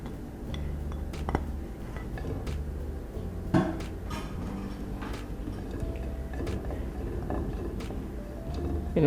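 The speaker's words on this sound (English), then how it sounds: "I'm gonna add the oil to the pan" A cooking pan for Italian flatiron steak rolls is shifted and handled on the stove: scattered metallic clanks, clinks and knocks, with one louder bang, over a low kitchen background.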